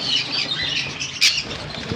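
Conure parrots at a bird sale, with a soft rustle of wings flapping and faint squawks, then a sudden sharp burst just past the midpoint, close by and without speech.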